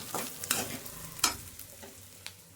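Spices and seasonings for a banana stem stir-fry crackle and sizzle in hot oil while being stirred, with a few sharp spattering bursts over a steady low fry, close by and fairly quiet.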